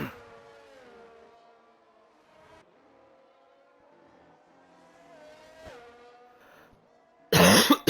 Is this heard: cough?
yes